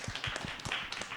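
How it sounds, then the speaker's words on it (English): A small group at a school district governing board meeting claps for a school's volleyball champions, a brief, quiet patter of several hand claps. "Let's give them a round of applause as well."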